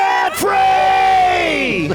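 A couple lets out a loud, sustained celebratory debt-free scream together, the two voices rising and wavering over about a second and a half before trailing off.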